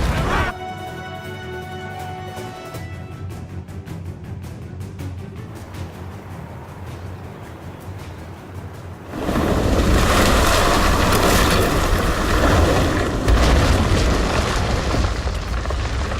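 Ship cannon fire and explosions in the naval game Assassin's Creed Rogue, a sudden loud, dense barrage of booming blasts and crashing surf that swells and holds steady after a quieter stretch of music and ambience.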